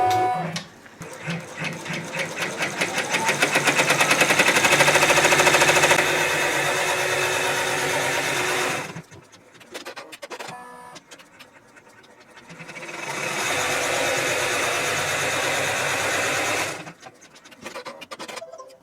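A computerized embroidery machine stitches out a Nativity table runner design, running loud and steady in long continuous bursts of rapid needle rhythm, broken by a short pause with scattered clicks before stitching resumes.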